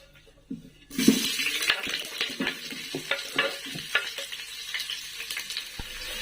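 Chopped onions drop into hot oil in a pan, then sizzle and crackle steadily while a spoon stirs and scrapes in irregular strokes, close up and fairly loud, with no talking.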